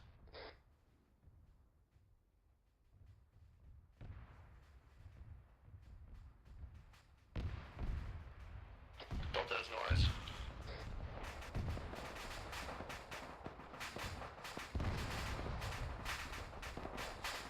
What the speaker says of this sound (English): Oh, we're taking shots from our north.